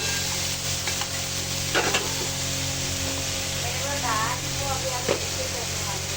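Tomatoes sizzle and fry in a pan on a gas stove as they are stirred, with a steady loud hiss and occasional scraping strokes, and a voice speaks over it.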